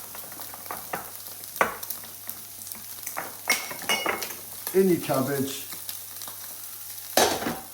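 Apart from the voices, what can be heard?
pork belly frying and crackling in a pan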